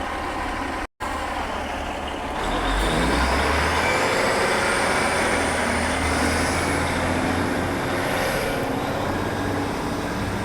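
Road traffic passes a level crossing as the barriers rise in Rochdale: a steady, close rumble of cars and heavier vehicles building after a brief pause, with engine drone and tyre noise continuing throughout.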